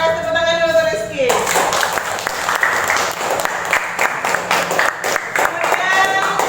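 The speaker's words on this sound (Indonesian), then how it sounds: "tepuk tangan dulu untuk Rizky" A school classroom bursts into clapping for a student, dense close applause that begins after a brief stretch of speech and continues steadily, with a voice returning near the end.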